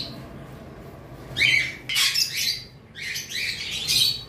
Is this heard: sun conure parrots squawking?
yes